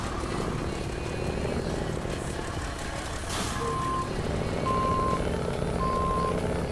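A heavy truck in SnowRunner rumbles with a deep, steady engine drone throughout, close and loud, with brief high beeps from about midway on.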